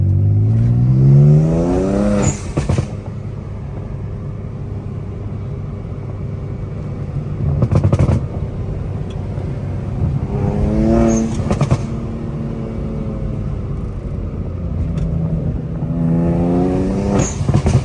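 An upgraded turbo BMW 335i with a six-speed manual driving, its engine droning and rising through several throttle pulls, with the gear changes audible between them, loud and close from inside the car.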